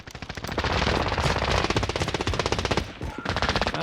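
Rapid automatic gunfire from the video game Call of Duty, loud and sustained in dense bursts nearly throughout, with brief pauses near the end.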